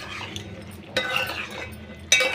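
A spoon stirs boiled goat head curry with masala in a pot, with soft scraping and two sharp metallic clinks against the pan, fairly quiet.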